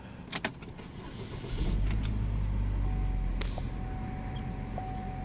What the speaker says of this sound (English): The engine sounds great.